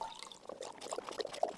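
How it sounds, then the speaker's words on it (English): Distilled water coolant with additives poured into a PC water-cooling loop, a soft close trickle and gurgle of liquid, faint and brief, with no talking. "And now it's time to fill it with coolant."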